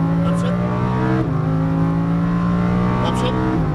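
A Lamborghini Huracan LP610-4 engine holds a loud, steady rising drone as it accelerates, with one brief dip as the gears change partway through, and a voice speaks over it.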